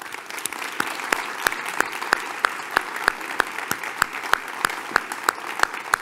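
Theatre audience at Teatro del Lago applauding to welcome a guest speaker, a steady wash of clapping with crisp individual claps in a regular rhythm standing out close by.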